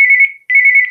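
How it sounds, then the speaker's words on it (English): A phone ringtone sounds close and loud as two bursts of a high trilling electronic tone, separated by a brief gap. "There goes that phone again."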